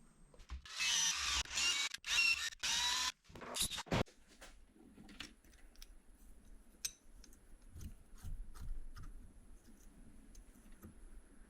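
Hand tools fastening a part onto a Kawasaki ZXi 1100 jet ski engine, ported and powder-coated, with thread locker applied: a dense burst of clicking, ratcheting metallic scrapes up close, then sparse ticks and faint taps.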